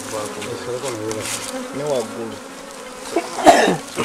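A swarm of African honeybees hums steadily around an exposed hive comb during hive management, close and continuous with wavering buzz tones, while a brief cough-like burst and a short puff, likely from the smoker, break in near the end.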